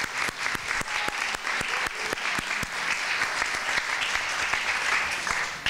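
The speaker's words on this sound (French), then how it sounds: "Je vous remercie de les applaudir" Audience applauding volunteers at the closing ceremony of an international business leaders' forum, a steady, dense clapping from a large crowd that holds at an even level throughout with a few sharper individual claps standing out.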